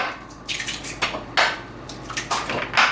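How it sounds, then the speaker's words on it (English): Eggs cracked quickly one after another against a bowl or pan, a close run of sharp taps and clacks with brief crunchy breaks in an uneven rhythm, no talking. "You cannot crack an egg a second, I've figured out."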